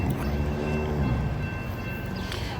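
A Norfolk Southern mixed manifest freight train rolls past close by with a continuous low rumble and rattling of cars, and a faint horn-like tone holds steady in the background.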